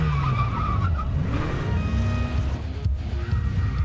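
Tires squeal and skid as a car swerves during a movie car chase, a loud sustained screech over engine roar lasting the whole stretch with no talking.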